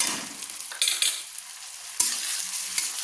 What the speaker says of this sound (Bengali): দিয়ে ভালো করে নেড়ে নিচ্ছি